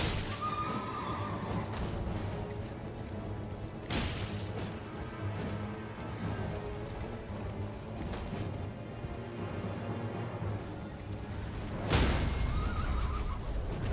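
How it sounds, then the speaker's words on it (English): A horse in the video game Elden Ring whinnies loudly twice, at the start and near the end, over a steady background with sharp impact thuds and hoof clatter. "There goes your horse."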